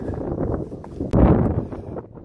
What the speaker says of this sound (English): It's a little windy up here